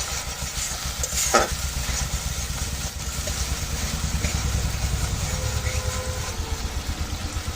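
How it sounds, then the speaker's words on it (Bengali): Spice paste with water, cardamom, cloves and cinnamon cooking down in a pan for a pointed gourd and potato curry: continuous close sizzling and bubbling, with a low rumble and the scrape of a spoon stirring. "আমি এভাবে করে মশলাটা কষিয়ে নেব।"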